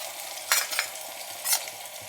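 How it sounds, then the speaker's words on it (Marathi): Onion sautés in a pan for veg pulao, a close hissing sizzle with two louder bursts as the pieces are stirred and turned. "कांदा छान परतून घ्यायचा आपल्याला."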